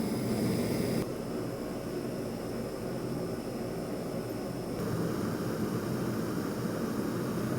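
A Jetboil Stash camping gas stove burns at full blast, a steady close-up hissing roar of flame that holds constant with only a slight shift in tone partway through. No voices are heard.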